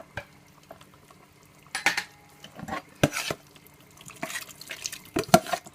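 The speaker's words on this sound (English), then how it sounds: "I'm just gonna add all my vegetable to the pot now." Vegetables go into a pot of Jamaican oxtail with a scattering of soft clatters, clinks and splashes, faint and intermittent over quiet kitchen background.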